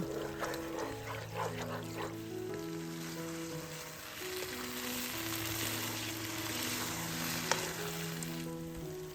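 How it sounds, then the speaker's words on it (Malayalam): Beef sizzles in a hot pan with a steady crackling hiss, stirred now and then, while soft background music plays. "ഇനി 5 മിനിറ്റോളം നന്നായി വഴറ്റുക"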